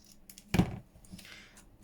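Scissors snip through a small stamped paper label during card embellishment work, one short, fairly loud cut, with softer rustle after it.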